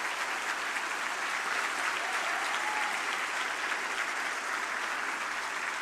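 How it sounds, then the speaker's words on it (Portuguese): Large audience at a liberty forum event in Brazil gives a standing ovation, a thick, even wash of applause holding steady at full strength from start to finish. "Vocês merecem, junto com Davi Agap, a maior salva de palmas por estar fazendo o trabalho."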